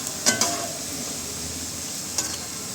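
French fries frying in hot oil during a home recipe, a steady low sizzle throughout with a couple of brief stirring or scraping clatters near the start and again near the end.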